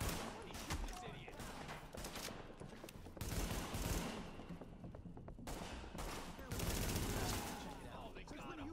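Bursts of gunfire ring out in The Division video game, rapid overlapping shots and fusillades in loud clusters with brief lulls, close and dense, with voices occasionally in the mix.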